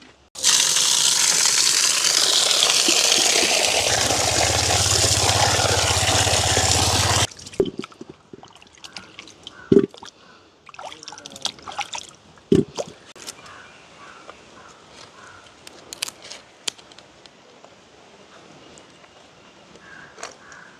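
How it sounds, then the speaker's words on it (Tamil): Potatoes washed in water: a steady rushing pour or splash for several seconds stops abruptly, followed by sparse close knocks, drips and clinks of the potatoes being rubbed and handled in a basin. "உருளைக்கிழங்கு என்ன செய்யப்படுறோம் முதல் கழுவி எடுப்பேன்"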